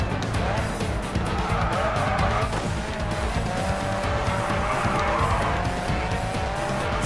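A race car in Grid 2 drifts with sustained tire squeal and skidding over a loud, steady engine roar, continuous for several seconds while someone talks faintly beneath it.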